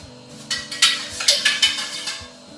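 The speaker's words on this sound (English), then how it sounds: "I'm going to give it a little stir with the bar spoon." A bar spoon stirs a drink sitting in a sous vide bath, making a series of light metallic clinks and taps in a quick uneven rhythm, close and clear, with no talk.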